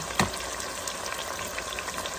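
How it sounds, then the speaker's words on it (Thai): Loud, close crackling and sizzling of garlic chicken drumsticks frying in oil, a dense steady hiss with a sharp pop near the start. "แล้วก็เอามาทอด อันนี้ไก่กระเทียมน่องไก่"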